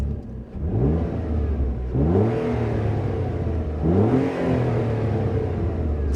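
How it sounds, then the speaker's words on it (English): A parked car's engine revved twice in quick succession, each blip climbing sharply from a low idle rumble and falling back, loud and close with no talk. "let's give it a couple of revs"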